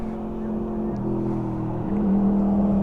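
A Yamaha R1 sport motorcycle engine drones in a steady tone that shifts pitch twice as it rides past, moderately loud, with no voices over it.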